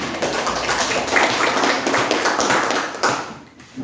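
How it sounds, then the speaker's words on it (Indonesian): Junior high school students clap for a presenting group in a classroom, a dense, steady patter of many hands close by that thins out and fades near the end. "Jadi tepuk tangan untuk kelompok"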